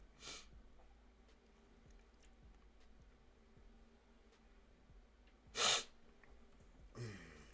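Quiet room tone broken by a short sharp nasal burst, like a stifled sneeze, followed by a fainter sniff moments later.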